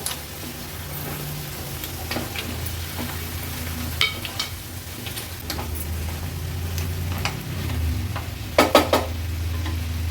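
Shrimp, squid, clams, lobster and other mixed fish and shellfish sauté in masala for a traditional Agri Koli fish kanji, with a low continuous sizzle, a faint hum and scattered spoon taps that cluster near the end.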